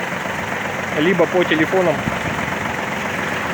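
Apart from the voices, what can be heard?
Kubota L-205 mini tractor engine idling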